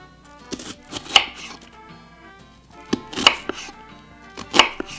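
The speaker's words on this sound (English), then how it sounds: "This is hard because I cut the top off of the onion." A knife chops an onion on a small IKEA cutting board in three clustered bursts of sharp, close knocks on the board, with quiet gaps between them and no talking.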